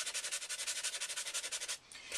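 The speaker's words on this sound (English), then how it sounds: "I'm sanding, but I'm not pushing down." A sanding block is rubbed gently back and forth over a painted acrylic surface, a quick, even series of close, quiet scratchy strokes that stop near the end.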